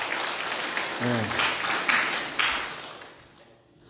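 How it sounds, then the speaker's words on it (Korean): A church congregation claps together at a 15th anniversary service, a steady mid-level patter of applause that swells in a few bursts and then tapers off, with a short spoken word partway through. "우리 창립 15주년인데 우리 하나님 앞에 박수로 함께 영광 돌리겠습니다."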